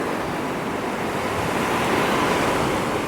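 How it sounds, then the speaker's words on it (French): Ocean surf washing and breaking steadily at the shore near Port Aventura on a calm-wind day, a continuous broad roar of waves that stays loud and even throughout with no voices. "C'est pas là que vous aurez les plus grosses vagues."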